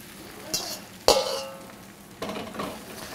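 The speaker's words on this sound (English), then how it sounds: "I like to give it a little stir just to get the eggs on the bottom to scramble up and set so that it doesn't stick" Whisked eggs with a little salt sizzling in a hot pan as they are stirred, with scraping strokes at intervals over a soft, steady frying hiss.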